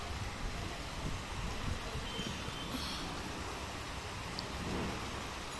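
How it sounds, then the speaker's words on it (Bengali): Light drizzle falls in a city under a darkening stormy sky, giving a faint, continuous hiss of rain with no distinct drops standing out. "গুড়ি গুড়ি বৃষ্টি নামতেছে"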